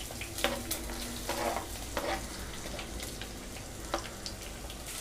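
Chopped onions fry in hot oil with popped mustard seeds, curry leaves and green chillies for a South Indian mushroom gravy, a steady close sizzle broken by occasional stirring scrapes.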